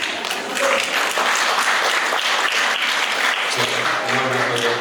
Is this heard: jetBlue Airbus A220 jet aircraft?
no